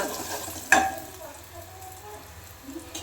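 Garlic frying in a pan gives a soft steady sizzle, broken early by a sharp clink of a utensil, with no talking.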